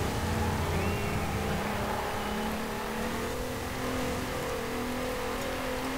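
A Volkswagen Corrado engine in Forza Horizon 4 holds a steady, droning rev under rough wet conditions, the continuous motor tone shifting slightly in pitch as the car drives on.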